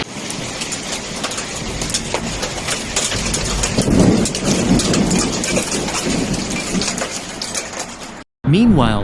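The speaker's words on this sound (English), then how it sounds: "The hail that hit several areas of Tokyo was also recorded in other areas, such as Shinjuku and Setagaya." Heavy hailstorm in Tokyo, with hail and rain pounding surfaces in a dense, steady roar and deep thunder rumbling underneath, ending in a brief cut and a short burst of other sound.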